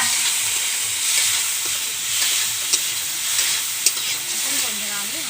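Chopped tomato sizzles in a frying pan with a bright, continuous hiss, punctuated by a few brief pops and clicks as it cooks.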